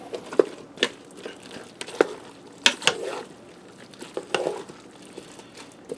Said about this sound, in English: Now I'm going to stir that down into the sausage and tater tots.